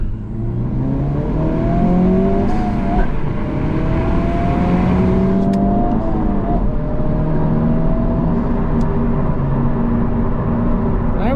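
A 2023 Honda Civic Type R on 19-inch wheels launches hard, its engine revving up loudly through rising gear sweeps, close and continuous with no talk.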